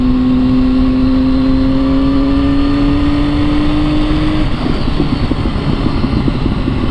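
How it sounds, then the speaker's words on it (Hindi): A Triumph 675 motorcycle with an inline three-cylinder engine, its exhaust note holding a steady, loud drone that rises gradually in pitch before breaking into a rougher, throbbing burble, heard close up with no talking. "एग्जॉस्ट साउंड में inline 3 cylinder and inline 4 cylinder bikes में ज़्यादा फ़र्क नहीं है"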